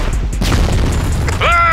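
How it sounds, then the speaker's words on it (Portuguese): A grenade blast in the online shooter CrossFire booms loudly through busy game noise and chatter, followed by a ringing, falling metallic whine. "Toma essa granada aí!"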